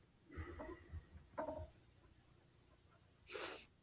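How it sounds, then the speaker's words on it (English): A quiet room with a couple of soft breathy vocal bursts, then one short, sharp sneeze near the end. "I'm gonna stop fucking sneezing."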